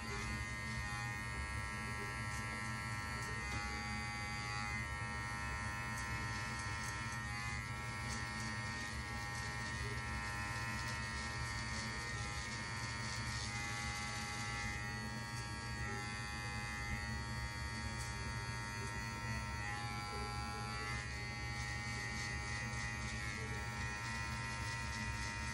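Electric hair clippers buzz steadily and close up through a self-cut high taper, a constant droning hum with small shifts in pitch as the blade moves through the hair.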